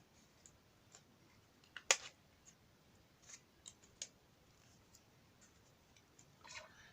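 Scissors snip paper for a scrapbooking candy box, a few quick quiet clicks and one sharper cut, spread out over a near-silent background.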